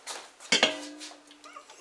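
A pot of boiling brine for pickling beets, with cloves, set down on a kitchen surface, giving a short sharp metallic clank and a second knock close by, followed by a faint ringing tail.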